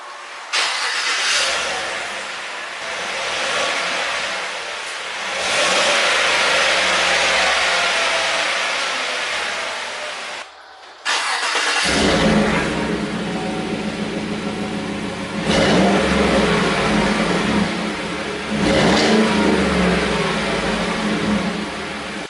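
A 2017 Chevy Silverado with an MBRP pre-axle exhaust cranks and fires, then idles and revs in several loud, close bursts, with a brief pause before it restarts and revs again, alone without talk.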